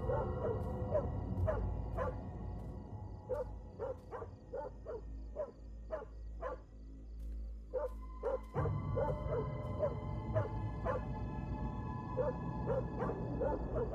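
A dog barks and whimpers in a horror-style scene, with repeated short yips and barks in an uneven rhythm, moderately close, over a continuous low rumbling drone.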